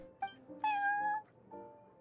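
A cat meows in the video game Genshin Impact: a couple of short chirps, then a longer tonal meow with a falling tail, clear and close, with soft game background underneath and no talking.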